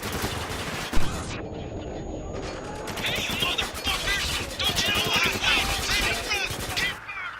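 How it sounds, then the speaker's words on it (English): Sustained heavy gunfire barrage in a PlayStation 4 action game, dense rapid shots and bursts filling the whole stretch with a sharp impact near the start, loud and continuous with no pauses. "You're pinned down by a relentless barrage of gunfire."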